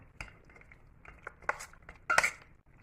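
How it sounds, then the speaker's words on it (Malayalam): Liver being stirred with pepper and turmeric powder in a pan for a liver fry, giving a few scattered clinks and scrapes of a utensil against metal, with a louder clatter near the end and no voice. "നമുക്കിതൊന്ന് നല്ലവണ്ണം മിക്സ് ചെയ്തിട്ട് ഒന്ന് വേവിച്ചെടുക്കാം"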